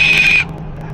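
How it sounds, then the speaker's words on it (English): A parrot lets out a loud, shrill, sustained high-pitched scream lasting about half a second before cutting off abruptly, nearby and piercing. "Look at the screams, the high-pitched screams."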